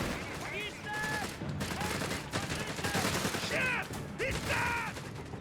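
Gunfire crackles through a Company of Heroes 3 battle, with repeated bursts and machine-gun rattle mixed with mechanical clanks and other battlefield noise. The shots are fairly loud and dense, and no one speaks.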